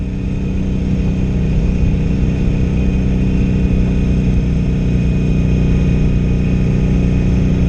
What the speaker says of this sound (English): Stock pipe, so it's got that stock sound to it.